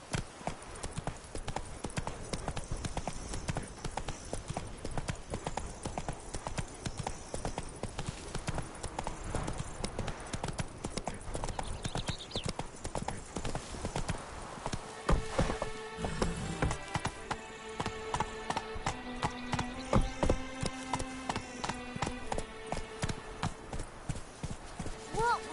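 Roach, the horse in The Witcher 3, clip-clops steadily at a trot under continuous game music, with a voice occasionally speaking over the hoofbeats.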